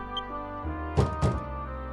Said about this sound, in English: Who's that banging on the door at tea time?